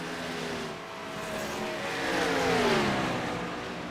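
A pace car in a Gen 6 Cup Series stock-car racing video game drives the track, its engine droning and rising in pitch as it accelerates, loud and steady with no talk.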